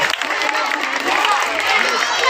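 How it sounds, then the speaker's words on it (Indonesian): An audience at a National Children's Day event breaks into applause, a dense, bright patter of many hands with crowd noise, close and steady for a couple of seconds. "Kita beri tepuk tangan yang meriah tentunya."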